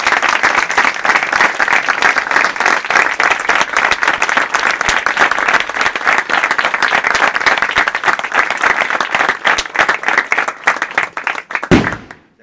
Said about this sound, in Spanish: vamos a terminar con un aplauso que salga de nuestro corazón